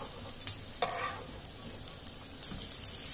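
A potato pancake frying in a pan, a soft steady sizzle with occasional crackling pops and brief scrapes, fairly quiet and with no voices.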